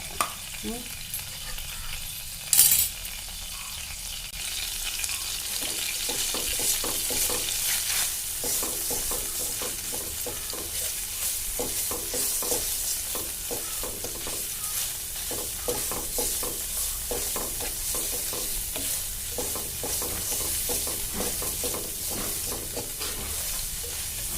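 Green chillies and garlic paste fry in a hot kadai for tomato chutney, a continuous loud sizzle broken by repeated scraping stirs of a spatula, with one sharp knock early on.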